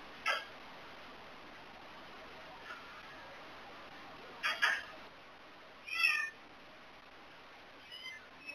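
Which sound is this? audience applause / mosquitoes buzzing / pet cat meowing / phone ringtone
pet cat meowing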